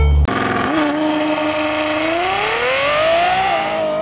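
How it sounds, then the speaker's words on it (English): A Ferrari engine revs toward its red line, its loud, shrieking wail climbing steadily in pitch after a sharp start, sustained and close with no talking. "The shrieking sound of this car approaching red line"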